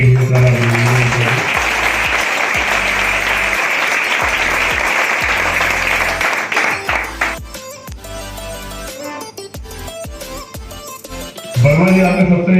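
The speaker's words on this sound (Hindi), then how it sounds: "तालियां बहुत सारी" An audience applauds at a gathering in a Mirzapur hotel, with loud dense clapping that is broken up by amplified speech and then returns near the end.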